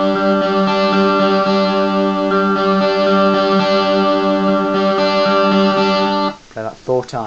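An electric guitar played through a distortion pedal sustains thick, buzzing chords for about six seconds, loud and close, then cuts off into a few short plucked notes.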